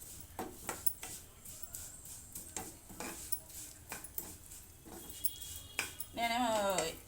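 A utensil stirs food frying in a pan during festival cooking, giving irregular metallic scrapes and clinks against the pan over a soft background. A voice briefly sounds near the end.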